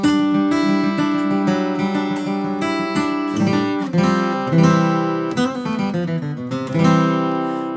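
Martin OMC-28E acoustic guitar played through a Fishman undersaddle pickup, ringing strummed chords and picked notes with bright sustained harmonics, loud and close, no talking.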